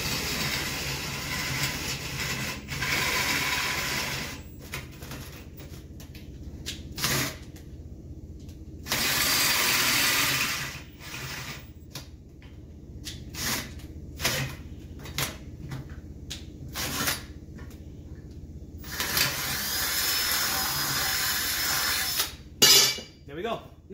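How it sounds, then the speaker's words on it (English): A power drill fitted with DeWalt bits whirs in long, steady stretches, drilling slowly, stopping and starting repeatedly, with a person talking in the pauses. "So I'm gonna slowly drill this."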